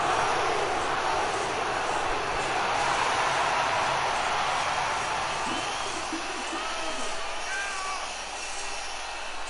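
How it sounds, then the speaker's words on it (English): A large crowd at a wrestling event roars and cheers continuously, a loud, dense wash of noise that fills the space and eases slightly toward the end. "Listen to the crowd!"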